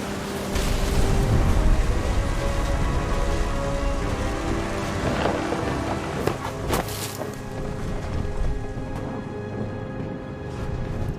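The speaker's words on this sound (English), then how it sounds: "The thunder sounded much too close and full of angry power." Thunderstorm in the video game What Remains of Edith Finch: steady heavy rain on surfaces with a rumbling low roar, broken around the middle by a couple of sharp, close thunder cracks, with no talking.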